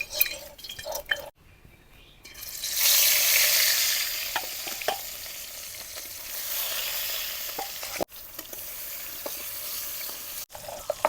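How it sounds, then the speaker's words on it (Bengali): Pieces of fresh river rohu fish fry in oil with a loud, hissing sizzle that swells mid-way, broken by brief gaps, sharp crackles and occasional clinks, close by. "মাছগুলাকে লাল লাল করে ভাজা নিলাম।"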